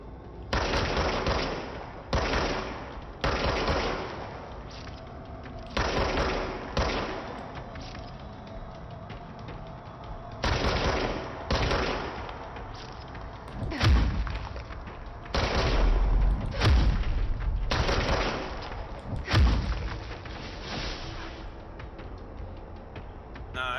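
Gunfire in the video game Control, repeated loud bursts of rapid automatic shots separated by short pauses, with heavy booming impacts among the later volleys and no speech.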